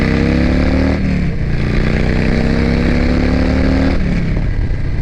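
A Harley-Davidson Softail Street Bob fitted with a Two Brothers Racing megaphone 2-into-1 exhaust revs hard, loud and close, its deep engine note climbing twice in rising pulls and dropping back between them.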